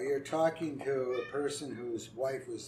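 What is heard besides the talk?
cat meowing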